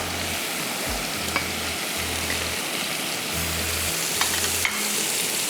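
Onions sauté lightly in a pan with a continuous, moderately loud sizzle and crackle, alongside a low, intermittent hum, and no voices.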